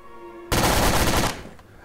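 Rapid automatic gunfire in Garry's Mod, a loud sustained burst of shots lasting under a second after a quiet start, then fading into a brief tail.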